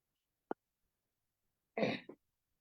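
A woman with a mild cold and sore throat during a medical lecture gives a tiny short cough, then a louder, fuller cough in near silence.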